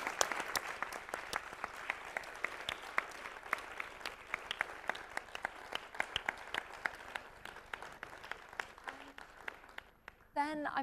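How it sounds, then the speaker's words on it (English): Audience applause after a book talk on business and nature: sustained, even clapping from a crowd, a dense crackle of many hands lasting several seconds before tapering off, with a voice starting to speak at the very end. "So please join me in, first of all, a big round of applause to André and Peter."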